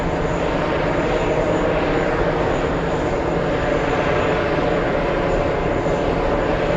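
A Lufthansa four-engine jet roars steadily on its takeoff run at JFK, a broad, loud, sustained engine rumble with no talk over it.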